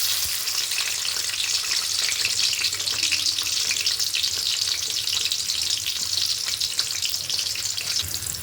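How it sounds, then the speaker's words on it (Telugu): Onions frying in hot oil for mutton curry, a loud, continuous, dense sizzle that holds steady throughout without pauses. "ఆయిల్ హీట్ ఎక్కేసింది ఇప్పుడు ఈ ఆనియన్స్ ఎత్తేసేస్తుంది"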